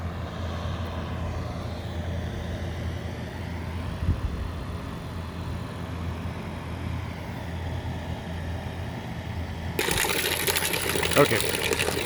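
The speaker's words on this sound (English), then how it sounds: "Pump's making a different sound" A small 12-volt DC water pump at an off-grid cabin hums and whirs steadily, close by, drawing from a bucket, with a louder burst of noise near the end.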